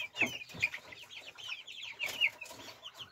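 Young Brahma chicks, two weeks older, cheep and peep in quick high chirps close by, with soft clucks underneath and no talk.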